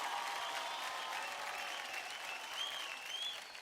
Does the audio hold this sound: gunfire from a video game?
no